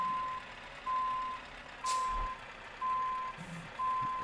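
Steady, evenly spaced reversing beeps from a truck backing up in Euro Truck Simulator 2, a clear repeating electronic tone, about one per second, over a low engine rumble.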